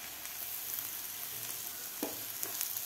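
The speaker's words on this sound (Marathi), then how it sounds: "कांद्याबरोबर थोडंसं आपल्याला भाजून घ्यायचं आहे।" Garlic and ginger fry with onion in a pan, giving a soft, even sizzle that holds throughout, with a few faint stirring scrapes near the end.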